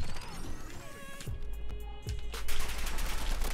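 Rapid gunfire from a shooter video game played on a PS4 controller with a DIY paddle, dense bursts of shots with sharp cracks and impacts, loud and continuous, no talking.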